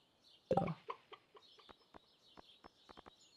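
A chicken in the farming game Stardew Valley lets out one loud cluck, then a string of short, quieter clucks at an uneven pace over a soft background tone.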